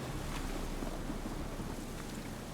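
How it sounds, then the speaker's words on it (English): A storm in The Witcher 3 video game roars as a steady, dense rush of wind and rumbling thunder that fills the whole short stretch with no voices. "A storm, damn it."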